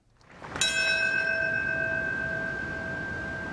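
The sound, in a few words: bell tolling in New York City for 9/11 anniversary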